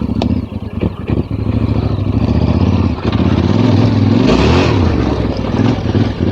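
Yamaha Ténéré 700 motorcycle ridden off-road, its engine loud and close, throttling and revving with rumbling pulses and clatter throughout.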